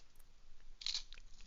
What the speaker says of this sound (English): I didn't know fish was that crunchy.